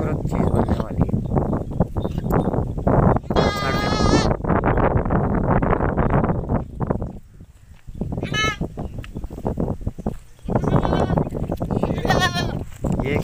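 Pure Beetal Amritsari baby goats, about four months old, bleat several times in loud wavering cries close by, scattered between stretches of busy background noise and handling sounds.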